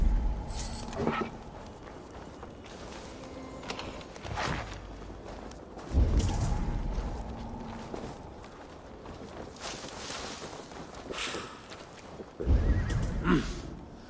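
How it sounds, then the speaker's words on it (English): Horse whinnies ring out several times in the video game Assassin's Creed Valhalla, over a busy background of hoof clops and shuffling movement, fairly close and loud. "Now to deliver Magni his horse."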